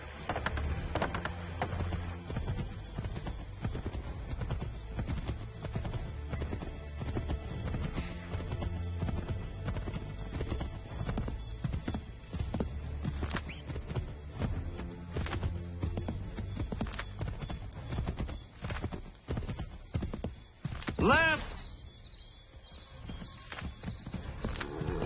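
Horse hooves clip-clop steadily on the move in Assassin's Creed III, a continuous rhythmic trot under layered game ambience, with a brief whinny near the end.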